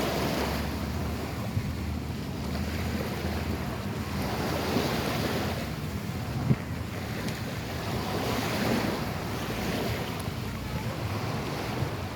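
Gentle ocean waves wash over soft sand on Fort Myers Beach in Florida, a steady broad surf rush with slow swells, heavily mixed with wind buffeting the microphone; no talking.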